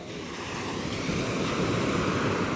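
High afternoon tide surf rolls in as a broad, continuous wash of waves, building slightly in loudness, close by and mixed with wind buffeting the microphone, with no talking.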